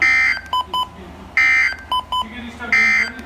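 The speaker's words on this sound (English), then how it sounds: "this has been a test of the NOAA weather radio warning alarm at the EAS signal" NOAA weather radio EAS alert tones: repeating bursts of shrill digital data chirps alternating with short beeps, loud and close, in three rhythmic groups with a broadcast voice faintly underneath.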